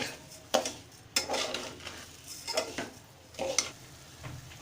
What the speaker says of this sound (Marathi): आता आपण हे मिश्रण सतत ढवळत राहायचं आहे मिश्रण पूर्ण एकजीव होईपर्यंत